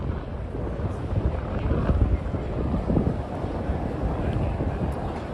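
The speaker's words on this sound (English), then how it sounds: "It's crazy windy tonight. Very, very windy." Strong gusts on a New York City street at night roar steadily across the microphone, a dense, continuous rushing buffeting with no pauses.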